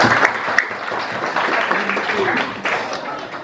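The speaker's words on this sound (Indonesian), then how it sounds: "Beri tepuk tangan sekali lagi untuk Mas Faiz" An audience at a mosque gathering applauds a poetry reader with steady, dense clapping that lasts the whole stretch, with voices mixed in.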